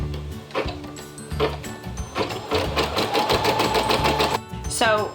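An embroidery sewing machine stitches a flat-bottom cosmetic bag, its rapid needle strokes running in steady bursts with short pauses, close and fairly loud, ending with a brief thread-cutting whir; a voice talks faintly over parts of it.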